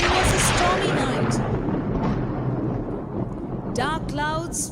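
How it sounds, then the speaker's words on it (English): A thunder sound effect for a stormy night scene in a staged performance: a loud, rolling rumble that slowly fades, followed by a few brief sweeping swishes near the end. "There was thunder and lightning in the sky."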